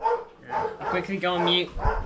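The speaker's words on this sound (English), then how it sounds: "apologies for my dog." A pet dog barks and yips in a home while someone talks over it, several short sharp barks mixed with whining, close to the microphone.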